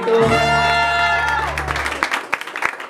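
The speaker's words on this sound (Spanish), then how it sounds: "Un aplauso bonito." Applause breaks out for a birthday celebration with a youth mariachi band, a held musical chord fading as scattered clapping and crowd noise take over, sharp individual claps standing out near the end.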